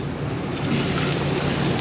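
Water pours steadily into a pot for rice in a busy restaurant kitchen, making a loud, continuous, close rushing splash with no pauses.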